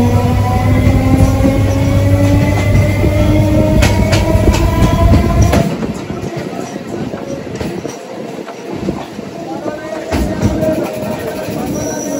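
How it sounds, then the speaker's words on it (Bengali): A Krishnanagar–Sealdah local train at a station, bound for Sealdah, gives a loud, close, steady rumble and hum that suddenly drops to a thinner rattle and clatter, with faint voices in the background. "এই হচ্ছে কৃষ্ণনগর শিয়ালদা লোকাল।"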